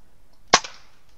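Single air rifle shot during pest control, one sharp close crack followed by a faint short echo, otherwise quiet.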